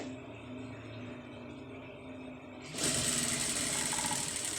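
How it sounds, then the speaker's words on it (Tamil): A sewing machine stitches a blouse shoulder seam, starting up partway through with a steady, close, continuous whir after a quieter stretch of low room hum. "இப்போ இந்த அளவுக்கு வந்து தையல் போட்டுக்கிறோங்க"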